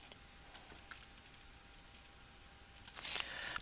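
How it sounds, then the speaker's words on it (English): Soft, faint typing on a computer keyboard during company setup in Dynamics GP, a few scattered keystrokes and then a quicker, louder burst of clicks at the end. "I can merely type that in"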